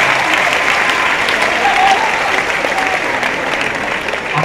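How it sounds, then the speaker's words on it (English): Loud, sustained applause from a crowd, steady clapping filling the room throughout with no pause. "Can we have another round of applause for you?"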